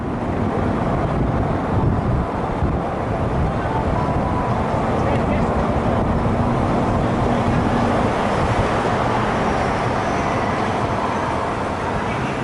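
A car driving along the Las Vegas Strip past City Center, a loud, steady roar of road and wind noise from inside the vehicle throughout.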